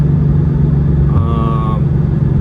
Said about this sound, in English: You can hear the exhaust. It's not straight pipe anymore, but it's still loud.